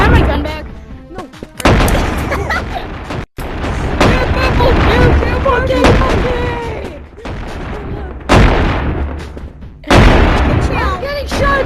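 Loud shotgun blasts in the video game Animal Company come in dense bursts with short gaps between volleys, while players shout over the gunfire.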